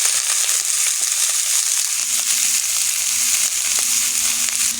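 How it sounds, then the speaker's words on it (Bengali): Onion, green chilli, beans and cauliflower sizzle steadily in a hot pan, a loud continuous frying hiss with faint crackles and a low hum underneath. "শিম আর কপি একসাথে দিয়ে দেবো।"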